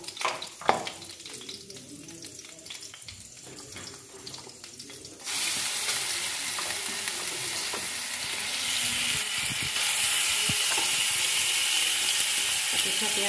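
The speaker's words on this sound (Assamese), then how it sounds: "কাটি থোৱা পিঁয়াজখিনি এনেকৈ দি দিব লাগিব।" Chopped onions drop into hot oil for a jackfruit dish, the pan bursting into a loud, steady sizzle that swells further partway through, following a quieter stretch of scattered kitchen clatter.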